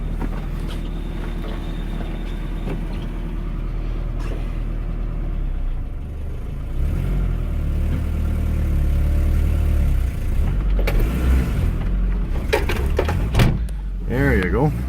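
A 1995 Nissan pickup with a worn timing chain idles steadily after a cold start, a low continuous engine rumble with wind buffeting the microphone, and voices speak over it toward the end.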